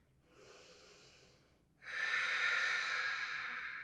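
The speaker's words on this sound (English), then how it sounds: "A few breaths here." Slow, audible breathing during a yoga hip stretch: a soft, airy exhale, a brief pause, then a louder, fuller breath that carries on steadily, close and alone with no talk.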